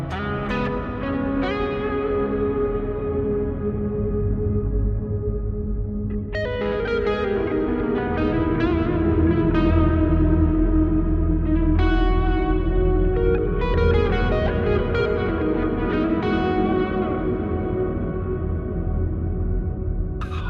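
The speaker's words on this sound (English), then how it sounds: "Slow, big, negative. That's what I was talking before. Like the inverted shimmer delay." A guitar played through an effect pedal set to an inverted shimmer delay with a slow, big, downward-tilted reverb, giving sustained chords that smear into lush, echoing washes, loud and close, with no talking.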